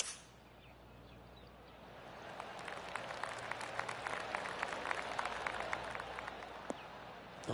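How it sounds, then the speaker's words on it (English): Golf crowd applause in the PGA Tour 2K25 video game, a soft, steady patter of polite clapping that builds and holds throughout at moderate level, with no talk over it. "Oh, golf clap."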